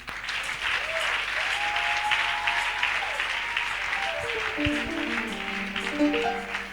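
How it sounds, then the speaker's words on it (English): Loud, continuous clapping from a worship congregation goes on steadily, with faint keyboard or musical tones rising underneath toward the end. "Clap for this man."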